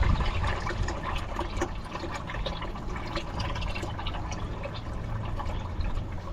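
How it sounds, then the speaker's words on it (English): Water drains steadily out of a flooded ex-CHP Chevrolet Camaro engine, a continuous splashing, trickling pour that stays fairly loud and even throughout. "Wow, that's a lot of water."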